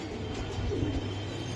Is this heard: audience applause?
no